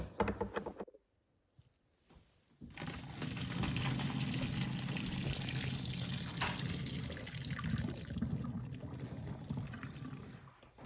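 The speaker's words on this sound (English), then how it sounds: "We're ready to drain these in the colander." Cooked tortellini pasta and water are poured from a pot into a colander after a brief clatter and pause, followed by a steady rushing, splashing drain that continues for several seconds at low level.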